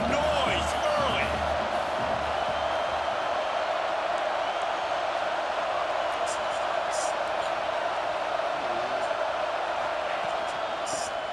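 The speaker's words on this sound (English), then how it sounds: "This crowd bringing the energy and noise early." A stadium crowd at a football game roars in a steady, loud, dense wash of noise throughout, with occasional shouts rising above it.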